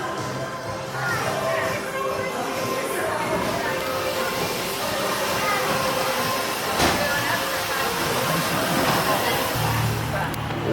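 Runaway Mountain Coaster cars rolling along their track in Branson, Missouri, a sustained rushing rumble with wind hiss and a sharp clack partway through, close and loud throughout.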